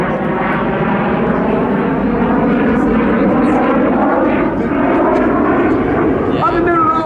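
Red Arrows jets fly aerobatics at Southport Airshow, their engine roar a loud, steady drone throughout while a commentator talks over it.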